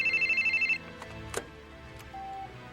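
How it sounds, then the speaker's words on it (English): A telephone rings in the J.B. Harold Blue Chicago Blues video game, a loud rapid electronic trill in even pulses that stops abruptly, followed by quieter clicks and a brief tone. "That is very loud. Pick up the phone right now."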